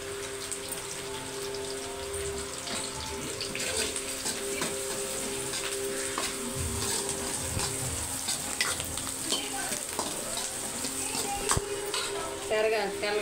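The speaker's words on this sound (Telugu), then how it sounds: "తెల్లగడ్డ వేస్తున్నాను" Garlic frying in a pan, giving a steady close sizzle and crackle with intermittent stirring scrapes and a soft clack near the end.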